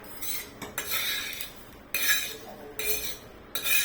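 Roasted niger seeds scraped from a pan onto a plate with a metal utensil, heard as repeated close bursts of scraping and metallic clinks with short pauses between them.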